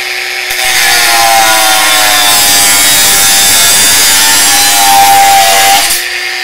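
A Bosch X-Lock angle grinder running without a disc whines loudly at a steady high pitch for about five seconds, then abruptly spins down and stops.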